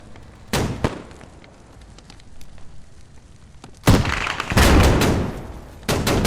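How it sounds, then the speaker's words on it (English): Turret gunfire in the military shooter Squad: a couple of sharp, loud cracks early, then a quieter rumbling stretch before a heavy sustained burst of fire and a final loud shot. "Beautiful turret shot."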